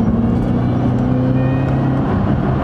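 A 2008 Ford Mustang Shelby GT500 Super Snake accelerates hard, its engine a loud, close, steady roar with a rising tone and wind rush.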